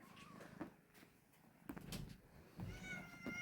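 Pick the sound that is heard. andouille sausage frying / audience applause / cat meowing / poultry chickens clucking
cat meowing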